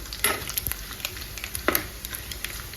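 Dried fish frying golden in hot oil, a continuous close crackling sizzle with a few sharp pops and utensil taps against the pan, heard alone without talking.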